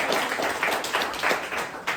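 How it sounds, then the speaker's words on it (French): Audience applause at a French-language comedy show, a steady wash of clapping hands with slight swells, fairly close and filling the room without pause. "Tenez un applaudissement pour ce groupe-là"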